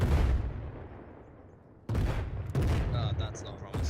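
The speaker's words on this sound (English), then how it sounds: "Mortars coming in. Mortars to our rear." Incoming mortar fire in the video game Arma: a loud low boom rolling off at the start, then fresh broadband blasts and crackling impacts, with faint voices and radio chatter mixed in.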